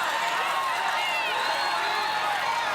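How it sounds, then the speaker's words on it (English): Crowd erupting in loud, sustained cheers at an American Ninja Warrior Los Angeles finals course, a dense roar of voices and whistles that swells and holds steady throughout. "And the crowd erupting"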